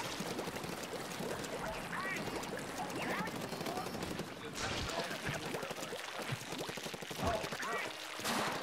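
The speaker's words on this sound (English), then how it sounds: "Oh, sploosh weapon time." Rapid splattering bursts from the Sploosh-o-matic ink weapon in Splatoon 2, firing in quick repeated spurts amid busy game noise, with a player talking over it throughout.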